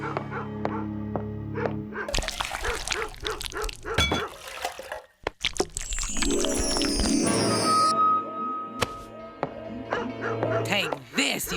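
Cartoon dog barking and yipping in an animated kids' mystery show, sharp repeated barks mixed with busy music and sound effects, with a character talking over parts of it.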